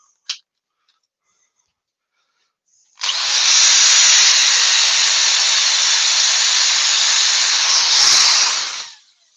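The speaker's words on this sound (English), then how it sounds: "I'll just finish off the sanding with 400." Hand sanding with fine 400-grit sandpaper during a craft colouring session, a steady loud scratchy hiss lasting about six seconds, preceded by a brief tap.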